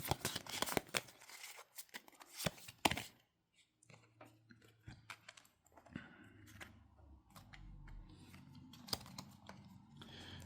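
Game cards for the Terminus Frontier campaign are shuffled and handled on a tabletop, with quick riffling bursts followed by quieter taps and soft card sounds.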